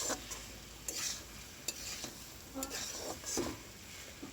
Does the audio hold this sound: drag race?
no